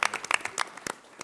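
A brief spatter of applause from an audience at a university talk on hate and intolerance, a handful of distinct claps, close and uneven, fading after about a second.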